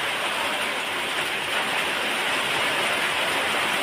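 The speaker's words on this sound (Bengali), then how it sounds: "বৃষ্টিটা আগের থেকে আরো জোরে নেমেছে" Heavy rain pours steadily during a darkening thunderstorm in Pirojpur district, a dense, unbroken hiss of falling water close by with no voices.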